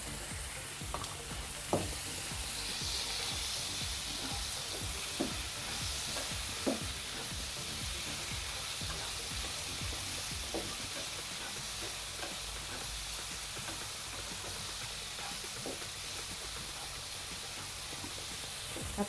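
Chopped tomatoes, two medium ones, fry in a hot pan and get stirred, giving a steady close sizzle with intermittent scraping clicks of the spoon throughout, no voices.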